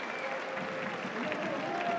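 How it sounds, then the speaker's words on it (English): Home fans at a Guingamp versus Lyon football match applaud at the final whistle, a distant stadium-wide roll of clapping and crowd noise running steadily beneath a commentator's voice. "Encouraging applause from the home fans who saw their side put in a fine first half performance."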